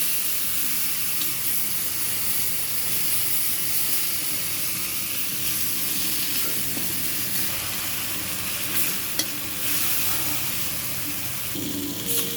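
Spice paste of turmeric, chilli powder, salt and a splash of water fries in a pan for a stingray curry, a continuous close sizzle and hiss with faint clinks, no voices.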